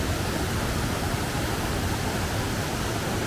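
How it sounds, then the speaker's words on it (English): Strong rushing water roars beneath a bridge at Yunoyama Hot Springs in Mie, a loud, constant broadband torrent that fills the whole moment without pause. "This water's just coming down super strong,"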